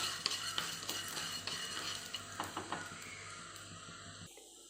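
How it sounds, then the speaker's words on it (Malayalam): Whole coriander seeds dry roasting in a pan for homemade sambar powder, heard as a quiet, steady rustle and scrape of seeds being stirred, with light clinks of a spoon against the pan. "നമ്മുടെ മുഴുവൻ മല്ലിയാണ് കേട്ടോ ഇതൊന്ന് വറുത്തെടുക്കാം."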